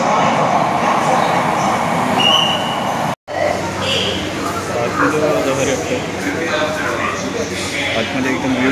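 Underground metro train ride, a steady loud rumble of the moving train carriage with a brief dropout, voices in the background throughout.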